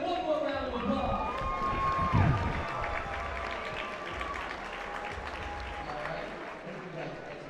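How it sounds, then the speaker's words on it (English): Crowd applause at a martial arts tournament, the Battle Zone Championships in Atlanta, moderate and steady, partly mixed with voices and a tonal sweep early on. "let's give them one more round of applause"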